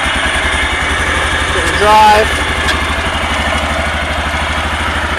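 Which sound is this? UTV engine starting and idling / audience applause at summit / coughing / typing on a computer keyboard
UTV engine starting and idling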